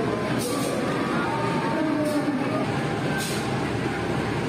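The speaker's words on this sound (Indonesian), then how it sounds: "ini KA Doho dari Surabaya lewat Kertosono sudah tiba di jalur 1" The KA Doho passenger train from Surabaya via Kertosono arrives at track 1 of a station, a steady loud rumble of rolling rail cars with faint periodic clatter, close and continuous.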